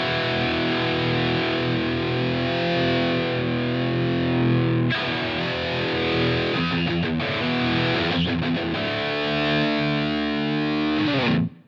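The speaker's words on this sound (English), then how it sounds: "So if I set that slop to 10 and then put the sensitivity to 10, listen what happens." An electric guitar runs through a Line 6 Helix Double Take effect with slop and sensitivity at 10, playing loud distorted chords and single notes with loose, wavering doubled timing and shifting pitch, alone without talk.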